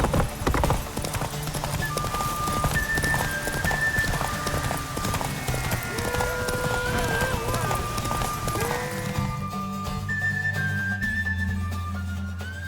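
Horse hooves gallop in The Witcher 3, a steady rapid clip-clop drumming under game music, with a voice speaking briefly near the start before the riding sound thins out near the end.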